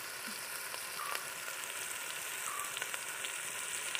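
Curry leaves sauté in hot oil in a pan for chicken roast, producing a steady, close, crackling sizzle throughout with faint stirring taps and no speech.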